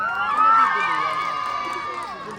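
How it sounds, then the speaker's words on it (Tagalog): A beauty pageant crowd cheers and screams loudly, many voices rising together in a sustained high-pitched roar that gradually eases. "At isa rin po sanang malakas na hiyawan."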